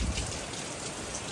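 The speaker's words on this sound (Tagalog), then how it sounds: "Bigla pong lumakas ang ulan." Heavy rain pours down steadily at a home, a dense, loud hiss of drops drumming on surfaces with no pause, sounding close and continuous.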